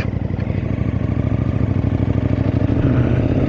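A KTM 890 Adventure R motorcycle rides through Scottish countryside, its engine a steady, loud, close rumble with a pulsing beat that builds slightly toward the end.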